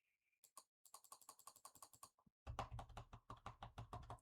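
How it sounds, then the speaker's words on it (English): Rapid clicks and key taps from a computer mouse and keyboard during a drawing livestream, sparse at first then quickening into a dense, close, crisp run of clicks, with no voices. "Because you guys can still hear my mouse clicks."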